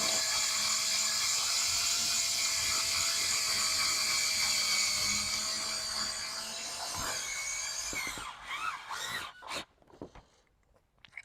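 A power drill whines steadily for several seconds, then grinds and stutters as a screw bites into aluminum before stopping, leaving a few scattered clicks.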